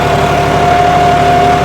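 A John Deere 5210 tractor engine pulls steadily in four-wheel drive, a loud, even diesel drone with a constant low hum held close throughout.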